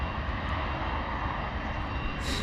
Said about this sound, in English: Beautiful arrival there from another Embraer Praetor 600 coming in from Larnaca today